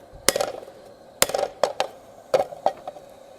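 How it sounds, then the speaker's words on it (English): A set hammer forges a steel skillet blank, giving about eight sharp, ringing metallic strikes in short irregular clusters with brief pauses, close and clear with no talk. "Just gonna keep our hammer going nice and even"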